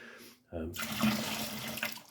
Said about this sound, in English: Give them a rinse out with boiling hot water.